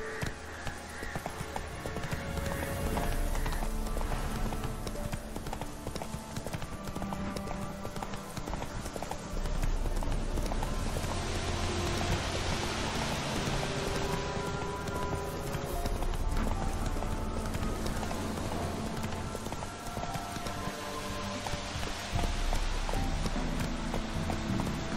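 Roach the horse gallops through The Witcher 3 with a steady, continuous clip-clop of hooves throughout, set against a dense game soundscape and some voices.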